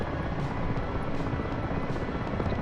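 A Mi-24 Hind helicopter in the DCS combat flight simulator drones with a steady, close rotor thrum and dense engine roar that holds at constant loudness throughout.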